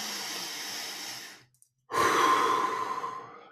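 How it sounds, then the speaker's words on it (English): A slow, deep breath is drawn in and then let out as an audible exhale after a short pause, close and clear with no talking. "So just take a deep breath."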